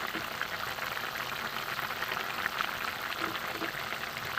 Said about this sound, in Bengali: ঝিঙে আলু ঝোল যে ফুটছে